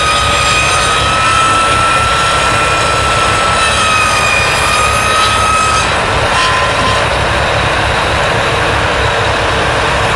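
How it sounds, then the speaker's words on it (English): A steady, loud engine drone of an airplane passing overhead at the Rock River Thresheree, an outdoor threshing and antique tractor show in Edgerton, Wisconsin, holding constant throughout with no speech. "I think this is a plane,"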